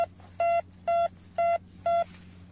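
Repeating electronic beep of a metal detector over a buried target while relic hunting outdoors in Maine, four evenly spaced, fairly loud tonal pulses with short gaps between them.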